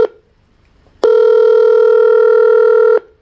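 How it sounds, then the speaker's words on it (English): An UberConference call ringing on a computer, a brief electronic tone followed by one loud, sustained ring tone lasting about two seconds, close and alone. "now Uber Conference is ringing"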